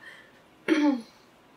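A single short throat clear from a woman recording a knitting podcast, close and clear against a quiet room.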